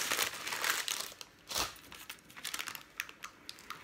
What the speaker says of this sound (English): now I'm very gently pulling away the grease-proof paper with all the mess